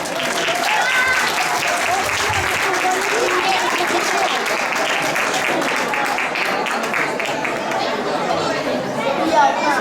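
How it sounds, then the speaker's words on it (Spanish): A crowd at an intercultural event applauds a dance group, a loud continuous wash of clapping mixed with cheering and chatter that carries on for the whole stretch. "Un fuerte aplauso para Sabrosura"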